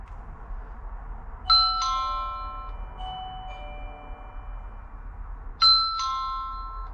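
An Annke smart video doorbell chime rings out twice in a quiet room, each a clear bright ding-dong of layered tones that lingers and fades, the second ring arriving about four seconds after the first.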